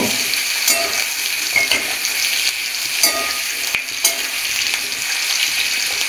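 Pumpkin and pointed gourd sizzle in fish oil in a pan, a loud, continuous close-up crackle broken by occasional scrapes and clatters as the pieces are stirred.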